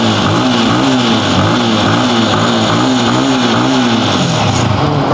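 A Yamaha R15M motorcycle engine runs steadily close by, a loud continuous drone with a wavering low pitch and no talk over it.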